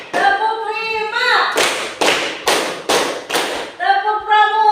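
Four firm group claps land in a steady beat, framed by chanting voices before and after, from a class doing a counting clapping game.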